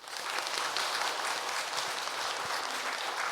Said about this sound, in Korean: 우리 인사할 때에 큰 박수로 격려해 주시기 바랍니다.